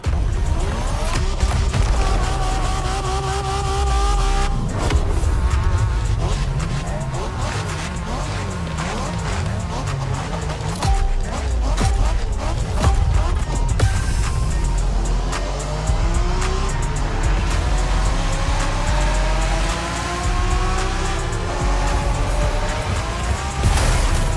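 Cars racing in The Crew video game on a Japanese street race, engines revving and whining through gear changes with tires squealing and skidding, loud and continuous throughout.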